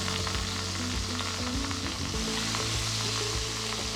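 Chicken pieces brown in a pot for a one-pot chicken roast, giving a steady, dense sizzle with faint crackles and occasional stirring scrapes throughout, close and continuous with no voices.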